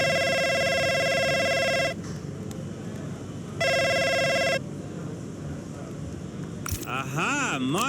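A phone rings in the F1 25 racing game with two bursts of a loud electronic ringtone separated by a pause. A short warbling tone follows, all close and clear.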